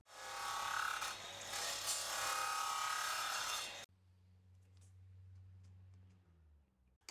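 Power saw cutting flooring boards indoors inside a bus conversion, hooked to a dust extractor: a loud, close buzzing cut for a few seconds, then stopping, leaving a lower motor hum running down.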